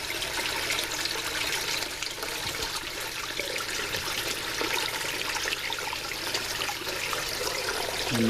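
Water pours steadily through a hydrocyclone in an aquaponics system, making a constant, loud rushing and swirling flow that continues without a break for several seconds.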